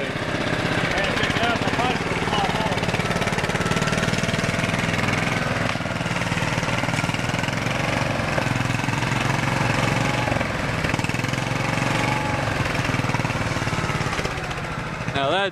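A tractor engine chugs loudly and steadily close by, rumbling throughout while voices talk over it.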